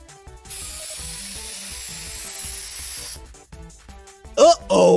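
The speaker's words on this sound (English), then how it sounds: "Small spray." A small cartoon spray lets out a steady, bright hiss for about three seconds, then cuts off, followed by a brief burst of animated voice sounds at the end.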